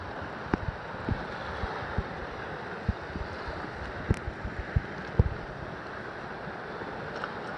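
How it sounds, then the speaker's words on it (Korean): Choppy sea slaps against a kayak off a beach near an uninhabited island, a steady wash of rough water and wind with irregular splashes and knocks close by. "파도가 세요, 여기는."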